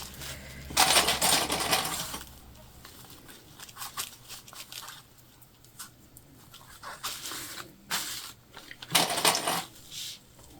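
Sewing machine stitching a Dollar Tree car trash can with webbing, loud bursts of rapid mechanical whirring in two main runs separated by quieter handling and rustling.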